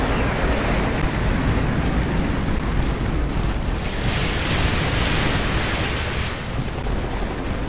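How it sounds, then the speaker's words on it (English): Artillery strike explosions in a combat setting, a continuous loud rumbling roar of blasts with no distinct gaps, dense and sustained throughout. "Artillery inbound."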